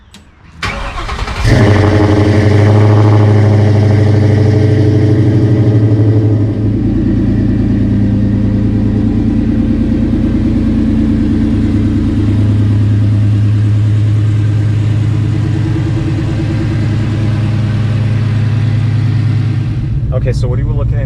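A 1985 Ford Mustang notchback with a swapped Coyote V8 engine starts, then runs with a steady low rumble for about twenty seconds while driving, loud and close, with brief voices near the start.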